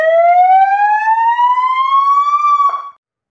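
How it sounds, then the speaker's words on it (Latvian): A fire truck siren switched on, a single loud rising wail that climbs steadily for nearly three seconds, then cuts off abruptly into silence. "Un tagad sirēnu."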